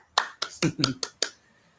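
Six sharp, separate hand claps at an even pace, close and fairly loud, fading into near silence after the last one.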